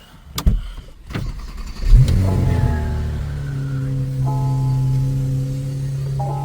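Old Soviet Lada car on the street: a couple of sharp door or body clunks, then the engine catches and settles into a steady low idle hum, close by.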